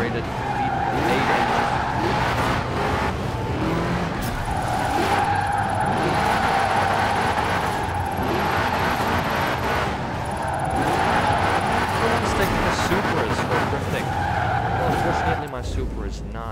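A naturally aspirated V8 engine roars in Forza Horizon 4, held loud and steady, with tyres squealing and skidding throughout and a brief drop near the end.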